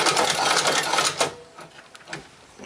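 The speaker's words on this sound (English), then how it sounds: "so we'll take it over to the sewing machine." An inexpensive leather sewing machine stitches a card wallet, running in a steady rapid clatter for over a second before stopping, followed by a few faint mechanical clicks and handling sounds.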